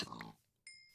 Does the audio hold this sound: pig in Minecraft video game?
yes